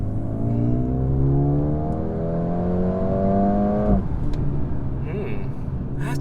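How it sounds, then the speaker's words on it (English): A Mercedes-AMG A35 sedan's engine revs hard and climbs steadily, then cuts off abruptly, leaving a rumbling overrun with scattered exhaust crackles and pops. "the way the exhaust crackles and pops, especially on the overrun, is really quite exciting"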